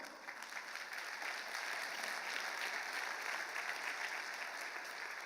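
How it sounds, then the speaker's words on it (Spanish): Sustained applause from a church congregation, steady and fairly loud, building quickly and continuing without pause. "Un aplauso para el Señor."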